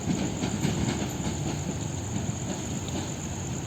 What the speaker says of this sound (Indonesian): itu dia kereta api Tawang Alun masuk di stasiun Jember dengan lokomotif vintage